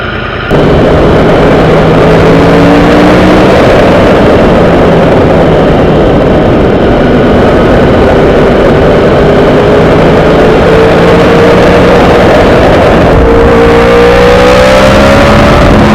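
Kawasaki ZX7R motorcycle engine idling and then revving, a loud, close, continuous rumble that holds steady before rising in pitch near the end.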